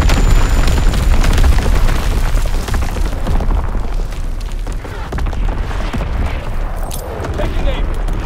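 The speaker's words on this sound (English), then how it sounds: "Enemy mortar fire incoming!" Enemy mortar fire explosions in an Xbox One war game, a dense, loud rumbling barrage of booms and blasts rolling on throughout, with heavy low-end roar that eases slightly midway before building again.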